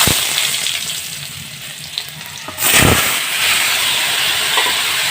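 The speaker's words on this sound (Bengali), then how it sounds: "সেই আলুটা আমি তেলের উপরে দিয়ে দেবো।" Boiled potatoes dropped into hot oil with cumin sizzle and hiss loudly, a sharp burst of frying noise partway through settling into a steady crackle.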